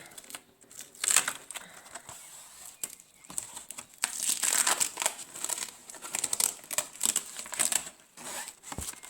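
A paper lightfastness chart held up in a window with washi tape is peeled off and handled, giving close crinkling, rustling and tearing sounds in irregular bursts throughout.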